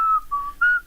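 A person whistles a short melodic tune alone, the clear tone holding steady notes in three or four phrases with brief gaps.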